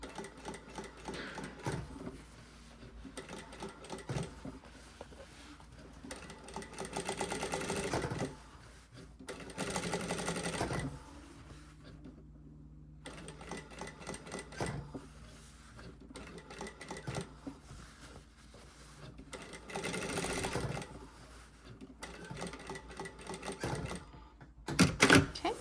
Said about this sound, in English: So I'm sewing around the perimeter of the handle just using a 1/4 inch seam allowance.